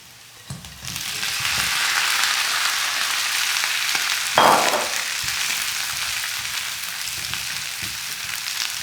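Pork dropped into a hot pan of sautéed onion and garlic for Bisaya-style humba bursts into a loud, steady sizzle that holds throughout, with a brief flare of spatter midway.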